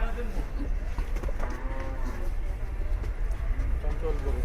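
A cow moos in a low, drawn-out call at a busy cattle market, the lowing rising repeatedly over a steady din of crowd noise and people talking nearby.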